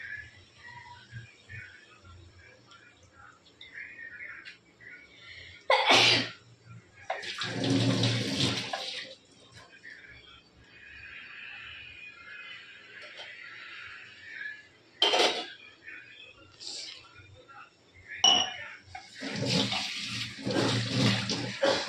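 Water poured into a pot of beans cooking with fresh coconut, in loud splashing bursts separated by quieter stretches of low background noise.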